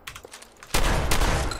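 Fallout 4 game combat: a few faint clicks and a small pop, then a sudden loud burst of shotgun fire with a dense, crackling blast that carries on to the end.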